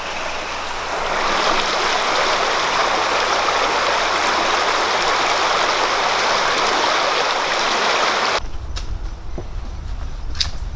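Rapids on the Hillsborough River in Florida make a loud, continuous broadband roar of rushing water that cuts off abruptly near the end, leaving quieter outdoor ambience.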